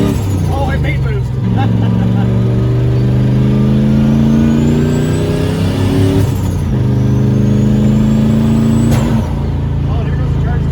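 A turbocharged car with a knocking engine, leaking exhaust and a faulty charge tube revs through repeated climbing pulls under load, loud and close, with turbo whine and whooshing releases between them.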